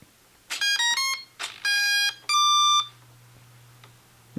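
Drone electronic speed controller beeping during a bench test, sounding as a short series of bright, loud electronic tones in rising steps followed by two longer beeps over a low steady hum.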